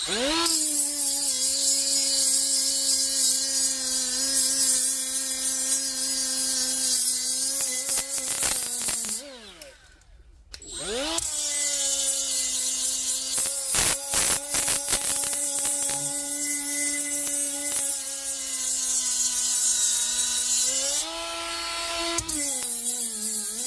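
A Milwaukee M12 cordless right angle die grinder scours built-up rust off a brake rotor with a loud, steady high-pitched whine. The pitch dips under load and the whine briefly stops before spinning back up, with scraping grit noise throughout.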